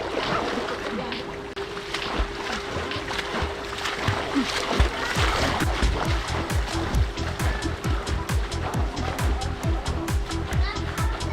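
Swimmers splash in an outdoor pool at a farm resort, with repeated close, rhythmic churning splashes that build into a steady run, while voices talk and call out over the water.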